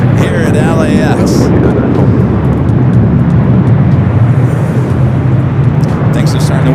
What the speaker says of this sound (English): It's Delta 767, 300 ER heading to Kahului, flight 425